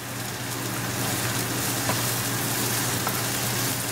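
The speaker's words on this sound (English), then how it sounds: "We're going to saute our onion like a 3 minutes or so." Chopped onion sizzles in a hot pan turned to high heat, with green chili in the mix, a steady close frying hiss running the whole four seconds with a couple of faint clicks.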